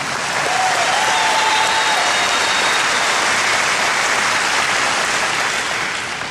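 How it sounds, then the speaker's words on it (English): Loud, dense applause from a crowd at an outdoor Tea Party rally in North Houston, a sustained roar of many hands clapping that stays strong throughout and eases slightly at the end. "Let's give them a big round of applause."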